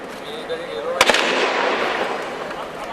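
Three sharp gunshots crack in quick succession, fairly distant, over a steady background hiss.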